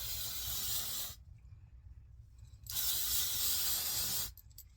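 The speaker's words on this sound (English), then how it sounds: "Let's not spray this into my coffee." Two long bursts of aerosol spray, each hissing steadily for about a second and a half, separated by a quiet pause, close and fairly loud.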